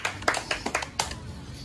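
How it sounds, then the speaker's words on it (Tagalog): A handful of hand claps at a casual gathering in a restaurant, several quick uneven claps in the first second, fairly close, then fading into room noise. "Palakpak mo na."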